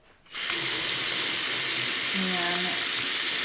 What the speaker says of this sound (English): first I'm gonna turn on the faucet